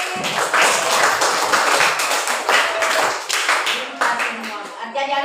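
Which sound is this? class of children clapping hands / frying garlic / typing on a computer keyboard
class of children clapping hands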